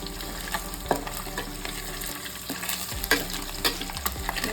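Dried fish (karuvadu) fries in hot oil for a Tamil eggplant and bean curry, a continuous close sizzle with scattered scrapes and knocks of stirring.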